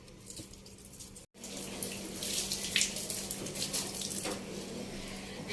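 Water runs from a tap while things are washed in a village home, a faint continuous splashing hiss with small clinks and a brief break early on, heard quietly without speech.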